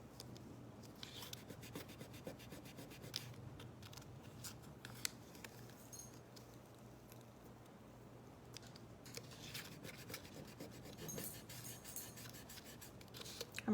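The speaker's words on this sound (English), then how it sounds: "I'm rubbing some of that paint off my fingers now" Fingers rubbing paint off one another after stenciling a painted wooden shelf sitter, a faint, steady close-up scuffing with scattered soft scratchy strokes and no talking.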